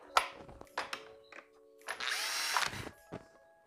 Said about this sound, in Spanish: También atornillo el de abajo.